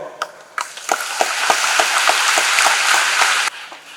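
Audience applauding at a festive church celebration of the 40th anniversary of the Union de prière pour les vocations (UPV) prayer group: a dense, steady wash of many hands clapping that swells quickly, holds loud, then cuts off near the end.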